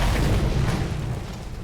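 A deep, rumbling burst of explosive noise from the video game Mad Max rolls on and fades slowly, broad and heavy with no talking over it.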